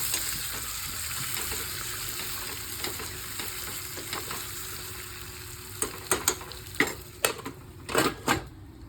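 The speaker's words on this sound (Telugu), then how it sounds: "చిన్న మంట పెట్టి మగ్గించుకుంటుండాలి" Capsicum cooks in a pan on a low flame with salt, giving a close, steady sizzle and frying hiss, joined near the end by several sharp, clattering stirs and knocks of a utensil against the pan.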